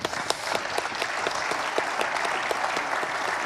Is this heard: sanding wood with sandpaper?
no